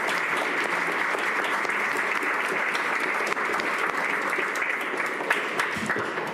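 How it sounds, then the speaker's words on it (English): A seated audience gives a sustained round of applause for the speakers, dense, steady clapping from many hands filling the room at an even level with no talk over it. "let's give a round of applause to our speakers."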